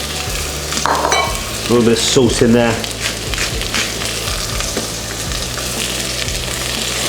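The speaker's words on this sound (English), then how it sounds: "That beautiful sizzle." Vegetables hit hot rapeseed oil in a pan and sizzle loudly and steadily, with a few clanks of a utensil while a person talks over the frying.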